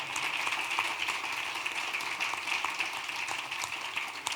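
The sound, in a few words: audience applause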